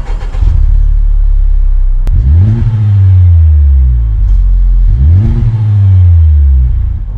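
The exhaust of a 2018 Honda Civic Type-R barks through two sharp revs, each climbing quickly and falling back to a deep, steady idle, loud and close with no talking.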